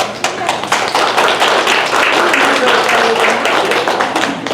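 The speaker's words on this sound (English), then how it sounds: "round of applause." Dense, sustained applause from a convention panel audience, loud and close, continuing steadily for several seconds.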